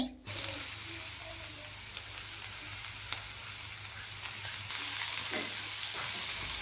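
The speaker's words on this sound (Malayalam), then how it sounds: "തകരയിലയും കൂടി നന്നായിട്ട് നമുക്ക് ഇതിനകത്തോട്ട് ഇട്ട് കൊടുത്തിട്ട് ഇത് നന്നായിട്ട് നമുക്ക് ഇളക്കി എടുത്തിട്ട്" Takara (Cassia tora) leaves being stirred in a pan for thoran, giving a steady broadband sizzle with occasional scraping clicks. A voice speaks quietly underneath near the start.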